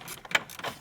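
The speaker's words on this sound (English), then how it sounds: "All I had was my electric ratchet" An electric ratchet whirs briefly while working on a car up under the steering column, with a short buzzing burst in the middle of a quiet, close-up mechanical clicking.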